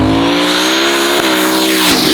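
A 1,500-horsepower big-turbo Volvo wagon engine revs hard and very loud up close, its pitch holding high and steady before dipping briefly and climbing again.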